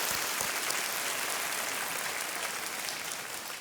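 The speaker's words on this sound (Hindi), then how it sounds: "और तालियों के साथ हम इनका अभिनंदन करते हैं।" Studio audience applause on a television quiz show set, a continuous even wash of clapping from many people, steady and moderately loud with no voices over it.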